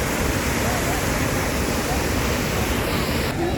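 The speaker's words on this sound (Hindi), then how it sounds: "धुआंधार बहुत ही खूबसूरत जगह है जहाँ बहुत ही तेज़ी से नर्मदा का पानी गिरता है।" The Dhuandhar waterfall on the Narmada river near Jabalpur roars as water falls fast, a dense, continuous broadband rush filling the whole stretch, loud and close with no clear voices.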